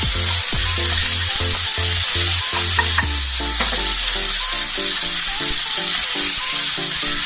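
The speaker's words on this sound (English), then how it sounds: "you put the ground pork right in. And as it's cooking, you just want to break it up." Ground pork frying in sesame oil in a hot pan sizzles loudly and steadily, while a utensil scrapes and taps rhythmically to break up the meat, with no talk.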